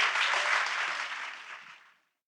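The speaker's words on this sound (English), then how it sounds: "please give them a big round of applause" An audience claps for a panel leaving the stage, a short, fairly loud wash of applause that fades out smoothly into silence.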